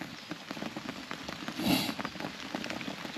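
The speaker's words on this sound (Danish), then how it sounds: "her til morgen er begyndt at være pissehamrende regn" Heavy morning rain pours steadily at an outdoor cup event, a dense, soft patter on surfaces that stays faint and continuous throughout.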